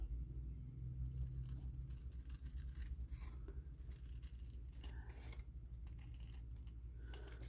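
Scissors snip through paper along the inside edge of a white line, producing soft, close, intermittent cutting scrapes over a steady low rumble.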